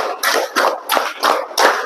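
A class of students claps hands in a rhythmic game, five loud, evenly spaced claps close by with brief gaps between them.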